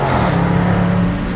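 A 2020 Range Rover Sport with a supercharged V8 roars loudly and close for about a second, the engine note staying full and dense before easing slightly at the end.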